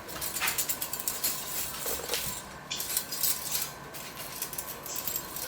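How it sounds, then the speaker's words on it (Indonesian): Loose rust flakes rattle and tick inside an old steel bicycle frame being shaken by hand, a dense, continuous gritty clatter like small pebbles, close and fairly quiet, with no talking. "Itu ada bunyi kayak kerikil-kerikil, kayak kotoran kecil kayak krik krik krik krik. Nah, itu karat cuy."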